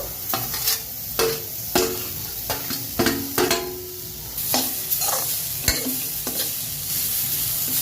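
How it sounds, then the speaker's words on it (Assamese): Coconut roasting in a wok crackles and sizzles steadily while a utensil scrapes and stirs in irregular close strokes. "সেই একে কেৰাহীটোতে আকৌ নাৰিকল দি দিছো।"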